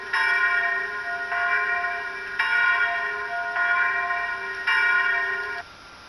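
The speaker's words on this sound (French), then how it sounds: "on lance les cloches 2-3. Ça va lancer les cloches 2-3-5." Church bells at St Vincent de Mâcon set ringing by a faulty control panel, several bells overlapping in sustained ringing with repeated strikes, loud and steady.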